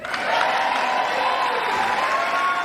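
An audience at a State of the Union address breaks into loud, sustained applause and cheering, a dense crowd sound that holds steady throughout.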